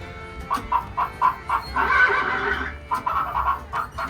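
An animatronic horse whinnying in a series of rhythmic, repeated pulses, loud and close, with a brief breathy stretch in the middle, at a Disney park attraction.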